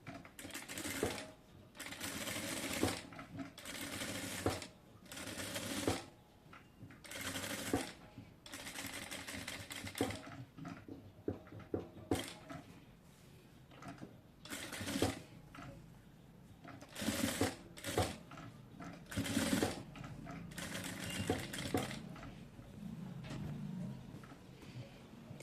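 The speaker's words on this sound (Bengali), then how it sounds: "তো আমি একদম সাইড দিয়ে হচ্ছে প্রথমে সেলাইটা করে নেব।" A sewing machine stitches a garment neckline in short, close bursts of fast mechanical chattering, stopping and starting repeatedly with quiet gaps and soft handling sounds between runs.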